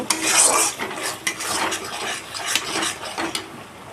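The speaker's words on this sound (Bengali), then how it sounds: "মশলাটাকে ধিমে আঁচে একটু ভেজে নেব।" Spice masala for paneer masala is stirred in a pan over low heat, a run of rough scraping strokes over a soft sizzle, close and fairly loud.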